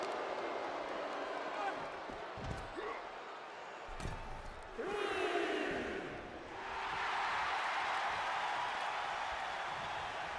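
A wrestling event crowd in an arena roars and cheers, with loud bursts of shouting and applause that rise and fall. Heavy ring impacts thud through the noise, and commentators talk over all of it.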